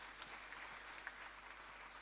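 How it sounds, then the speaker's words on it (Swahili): A church congregation at a Kikuyu-language service claps in a faint, distant wash of scattered hands, steady throughout with occasional sharper claps standing out. "Pigia ya makofi."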